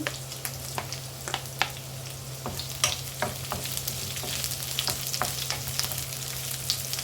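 Onion sizzling in a hot pan for a stir-fry of string beans with ground meat, a steady crackling fry broken by light stirring clicks against the pan, with no talking.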